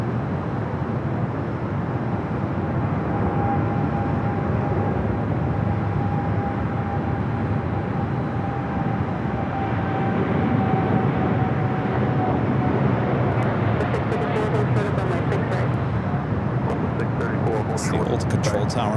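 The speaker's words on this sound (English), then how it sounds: "We do have a American Dreamliner rolling down at 7 left." Dreamliner jet of American Airlines rolling down runway 7 left at LAX, a steady broad rumble with a faint whine, growing a little louder after midway, heard from a distance over a continuous background.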